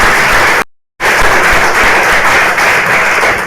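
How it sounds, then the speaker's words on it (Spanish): An audience at a conference in the Senate claps in loud, dense applause that breaks off for a moment, then resumes and continues steadily, with no talk. "un aplauso para nuestro amigo el señor Mariano Jabonero"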